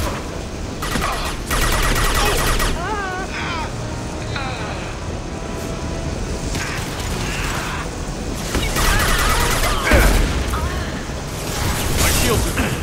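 Gunfire and explosions in the video game Mass Effect 2, with rattling weapon bursts, mechanical clatter and booming impacts, loud and dense, while combat voices shout over the action.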